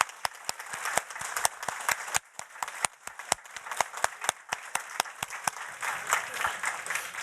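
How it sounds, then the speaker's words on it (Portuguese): Audience applause at a Brazilian electoral court event, a steady run of sharp, dense claps from a crowd, sustained and fairly close with no talk over it. "vale uma salva de palmas para o pessoal da comissão técnica"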